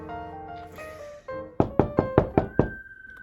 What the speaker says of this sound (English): And that was when I got a knock on my door.